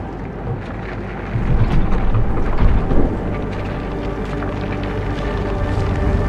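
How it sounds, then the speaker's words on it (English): A thunderstorm rumbles in the sci-fi game Fort Solis, with a steady wash of rain and low thunder that swells into a louder roll midway, then settles back to a constant storm bed. "Keep an eye on that storm."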